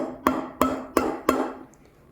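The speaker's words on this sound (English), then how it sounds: "I'm gonna tap it down on the bench just to break any bubbles." A milk jug for a Breville Dual Boiler espresso machine is tapped down on a bench four times in a steady rhythm, each knock sharp and close with a short ringing tail, then quiet.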